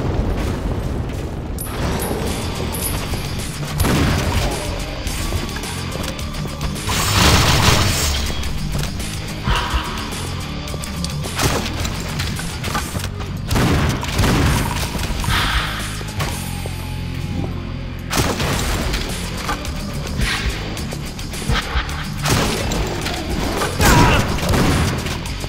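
Explosions in the video game Painkiller: dense, continuous booms and crashes layered over a loud, busy game soundtrack, with heavier blasts recurring throughout.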